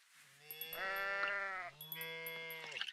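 Goats in a video game demo bleat in two drawn-out, wavering calls, clear and close, with a short gap between them.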